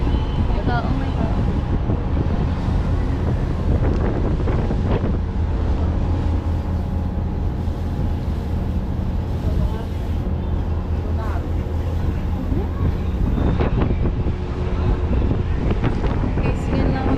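Ship pitching through strong waves at sea, with heavy wind buffeting the microphone and a constant low engine rumble and water wash throughout, loud and close, with people talking now and then.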